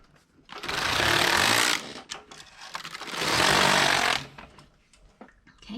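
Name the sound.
Passap E6000 knitting machine knitting rows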